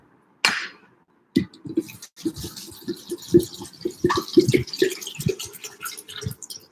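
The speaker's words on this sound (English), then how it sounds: "1 part jaggery and then 10 parts of water. So I'll just fill it up." Water poured into a container to mix a homemade jaggery-and-water cleaner, a clear splashing pour with bubbly, gurgling bursts after a short sharp knock, steady and close with no talk.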